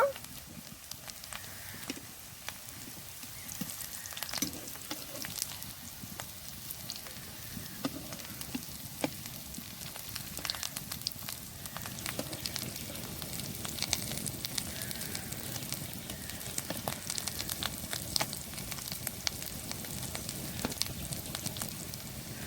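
Potato snack frying in hot oil gives a steady, broad crackling sizzle with scattered sharp pops, moderately close and continuous throughout, with no talking.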